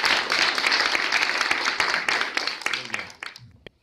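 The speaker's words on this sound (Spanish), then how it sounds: "les pido un aplauso a los que son foráneos y que están aquí con nosotros." An audience at an international arts festival in Mexico City applauds visiting out-of-state artists, with dense, steady clapping that thins out and fades near the end.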